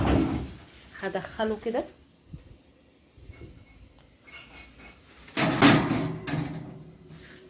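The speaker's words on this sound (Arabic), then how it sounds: "بصوا انا فاتحه الفرن بتاعي اهو" Oven door opened and a cake pan slid inside for a plain tea sponge cake heated to 180, with a clattering metal knock and scrape after someone talks briefly, the bang fairly loud and close.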